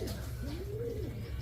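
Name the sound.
pigeons cooing in a loft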